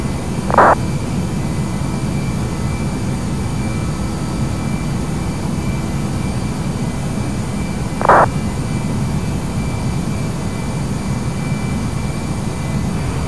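Airliner engines spooling up for takeoff in a VATSIM flight simulator session at Miami, a continuous broad jet roar with two short bright radio clicks at the start and near the middle.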